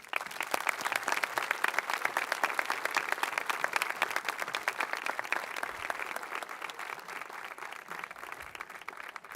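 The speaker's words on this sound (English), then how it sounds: "At this time, I would like you to give a round of applause for our Superintendent of Schools, Ms. Pamel" Audience at a high school commencement applauds steadily, many sharp individual claps forming a dense, close, continuous patter that eases slightly toward the end.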